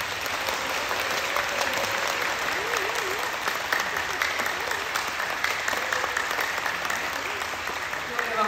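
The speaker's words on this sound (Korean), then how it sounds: "모든 침례받으신 분들 축하하는 마음으로 뜨겁게 박수해" A congregation at a Sunday worship service in Incheon, South Korea, claps warmly and continuously for newly baptised members, with voices murmuring under the sustained applause.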